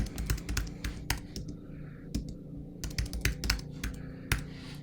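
Rapid keystrokes on a computer keyboard as a spending password is entered while setting up a Nami crypto wallet, close and clicky, in uneven bursts with short pauses between.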